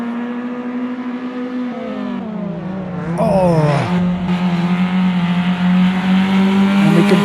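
Race cars circle a track, one getting sideways, their engines droning steadily and loud, with a rising rev and a brief squeal of tires midway as a voice briefly exclaims.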